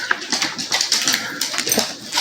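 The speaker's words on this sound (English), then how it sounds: "Watch out, look at this dog." A dog whimpers and whines in short, high-pitched bursts, close by, with a few yips mixed in.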